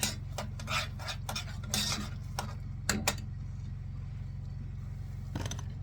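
Potatoes mashed by hand in a pot with butter and pepper, giving scraping, rubbing strokes in irregular bursts over a steady low hum.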